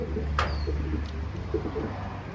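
Soft pigeon cooing at a distance from a rooftop loft over steady outdoor background noise, with a brief high chirp early on.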